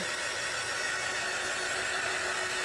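A hair dryer blows on stencil paint over knotty wood, giving a steady, close, unbroken whoosh of air that holds evenly throughout with no voices.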